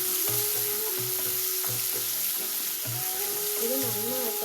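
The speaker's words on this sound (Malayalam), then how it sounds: "തക്കാളി എന്നിവ ഇട്ട് കൊടുക്കും. ഇത് നന്നായിട്ടൊന്ന് ഇളക്കി കൊടുക്കാം." Tomatoes and onions sizzle steadily in a pan while being stirred, a constant loud frying hiss with soft stirring bumps and background music playing throughout.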